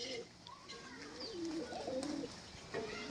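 Pigeons coo softly in a few low, throaty, warbling phrases, fairly close and quiet, with faint background noise.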